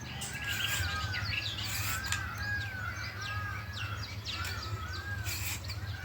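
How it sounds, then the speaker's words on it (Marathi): Peacocks calling outdoors in a village garden, repeated arcing cries recurring every second or so at moderate distance, mixed with smaller bird chirps over a steady low hum. "बघा किती मोरांचा आवाज येतो इकडं."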